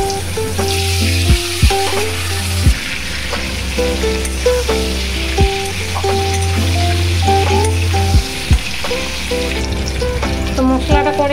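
Bay leaf and nigella seeds fry in hot oil, a loud continuous close sizzle with occasional stirring scrapes, over soft background music.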